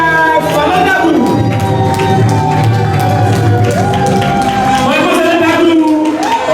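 Wedding guests at a reception applaud and cheer the bride, sustained clapping and scattered shouts mixed with music and a voice speaking over the crowd.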